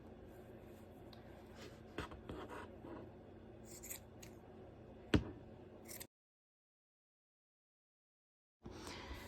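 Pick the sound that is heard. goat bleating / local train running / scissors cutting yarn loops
scissors cutting yarn loops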